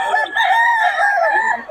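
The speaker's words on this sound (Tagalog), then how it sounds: "Maraming manok ngayon dito." Roosters crow in long drawn-out calls while chickens cluck in a busy crowd of fowl at a poultry gathering in Bocaue, a loud, continuous barnyard clamor with no talking.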